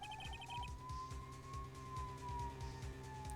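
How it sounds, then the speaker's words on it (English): A police siren wails faintly outside in the Ace Attorney video game, a steady rising and falling tone over a low thumping game soundtrack, quiet and distant throughout. "Is that a siren? I feel like I hear a siren outside."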